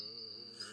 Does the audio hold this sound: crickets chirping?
yes